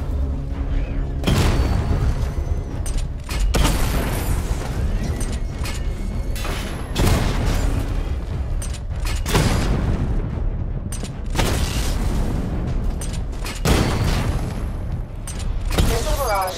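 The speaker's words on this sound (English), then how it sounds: "Destroy targets to charge up weapon energy and activate missile barrage" Missile barrage explosions destroying targets in Batman Arkham Knight, a series of loud, heavy booms at irregular intervals with rumbling tails and mechanical clatter between them.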